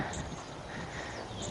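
Hooves of a ridden horse walking along the rail of an arena, a steady soft clip-clop close by beneath broadband rustle, no voices.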